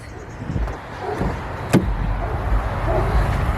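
Car door opened on a cold day, a single sharp latch click and thunk near the middle, set against low rumbling outdoor background noise.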